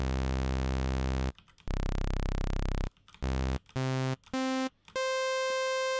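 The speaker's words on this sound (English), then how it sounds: "which is the sound of a saw wave" Synthesizer sawtooth tone stepping down through several octaves in separate held notes, each with a dense stack of evenly spaced harmonics, loud and alone with short gaps between notes.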